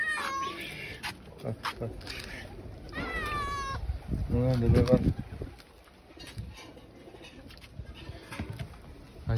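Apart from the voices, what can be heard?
hungry stray cats meowing and birds cooing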